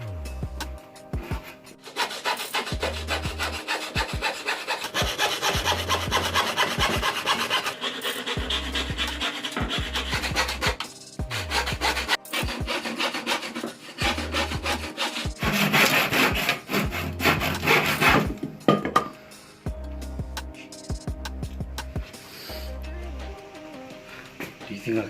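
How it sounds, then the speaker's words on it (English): Handsaw rasps back and forth through reclaimed wood in steady rhythmic strokes, close and loud, with heavy breathing and a voice talking over parts of the sawing. "So hopefully this is the last handsaw job."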